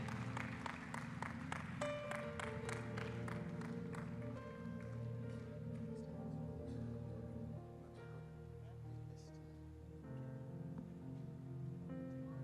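An audience claps loudly at first for an elderly father at a church gathering, the dense applause quickly thinning out while music and voices continue underneath.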